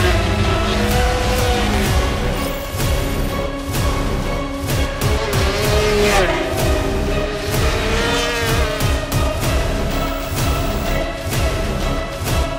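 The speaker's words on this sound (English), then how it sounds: "The Fireblade is born to race and the performance is shown on track." A Honda CBR1000RR-R Fireblade SP motorcycle racing on a track, its engine revving loud and continuous with rising and falling pitch through gear changes for the whole stretch.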